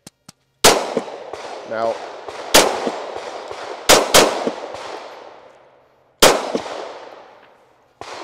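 Pistol shots ring out at steel targets during an outdoor shooting gathering: sharp loud reports come singly and in quick pairs, each trailing a long echoing decay, with a brief spoken word between.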